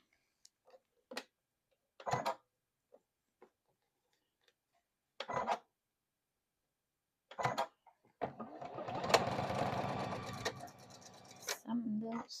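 A sewing machine stitching a flying geese quilt block starts after a few short scattered clicks and taps, then runs as a steady, close whirring buzz for several seconds before stopping.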